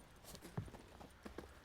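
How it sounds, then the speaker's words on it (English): Horse hooves clip-clop in The Witcher 3, a few soft, uneven steps at close range with quiet ambient noise behind them. "That's a pretty horse."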